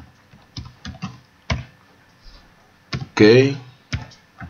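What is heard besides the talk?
typing on a computer keyboard, pressing enter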